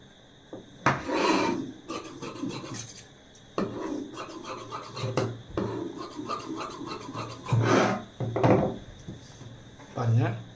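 Fabric being cut into a strip for tailoring a size 32 garment, rasping scissor and rubbing sounds in bursts, with a voice talking over parts of it.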